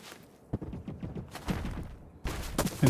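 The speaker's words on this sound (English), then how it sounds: "I hear footsteps." Muffled footsteps thud irregularly in The Cycle: Frontier, a run of soft impacts followed by a louder, denser burst near the end, with no talk over them.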